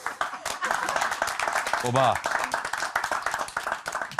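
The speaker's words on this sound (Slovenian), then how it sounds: "Kakšen lep spontani aplavz." Spontaneous applause rises on a Slovenian weekly talk show, with dense, steady clapping throughout and a voice speaking over it.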